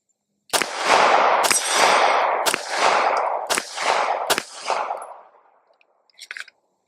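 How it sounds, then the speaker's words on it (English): Five sharp rifle shots from a Bear Creek Arsenal BC-101 Grissly firing 115 grain full metal jacket rounds at a steel target, spaced about a second apart, each a loud crack with reverberant tail, followed by a faint clang. "Let's see if I can hit the steel."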